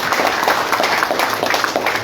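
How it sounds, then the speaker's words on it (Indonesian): Applause from a gathering of volunteers at a political declaration event in Malaysia, a brief burst of dense clapping from a crowd, steady and fairly loud with no pauses. "Beri tepuk tangan."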